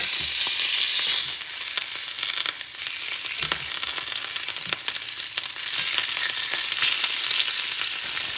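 Wild boar tenderloin medallions fry in a hot pan, giving a loud, continuous, close sizzle with a dense crackling hiss that holds steady throughout.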